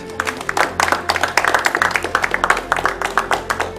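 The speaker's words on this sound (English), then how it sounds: "I think Mary deserves a round of applause." An audience claps for Mary, a contestant at a televised final eviction, with sustained applause of many hands at a steady level from start to finish.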